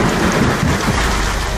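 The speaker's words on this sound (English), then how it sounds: "the latest storm fronts have seen hail hammering down" A severe storm in Sydney's northern suburbs with thunder and heavy rain, where hail fell; a dense, loud, unbroken roar of downpour with rumbling underneath and no voices.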